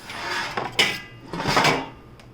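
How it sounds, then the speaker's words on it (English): A knife spreading butter to grease a pan: scraping and light metallic clinks, close and moderately loud, in two short rubbing passes. "So I put a little butter in here. Use my knife."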